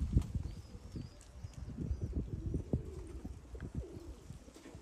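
Pigeons kept by a Turkish pigeon fancier, including homing pigeons, coo in low repeated murmurs close by, with soft overlapping calls and some shuffling and bird activity around them.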